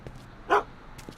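A single sharp dog bark from Einie in Back to the Future: The Game rings out once, fairly close, against a quiet background.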